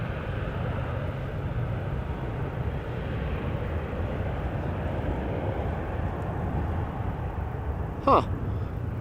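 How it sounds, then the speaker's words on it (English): A KLM Boeing 737-800 departs Amsterdam Schiphol, its jet engine roar a steady distant rumble throughout, with a brief sharp noise near the end. "KLM flight 1695, Boeing 737-800 going to Lisbon"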